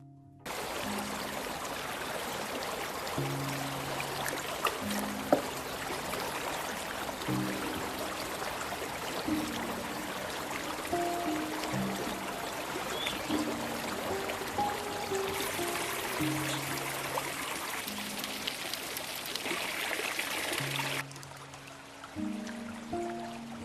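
A mountain forest river flows in a constant rushing wash that holds steady throughout, with a melodic music bed playing over the water.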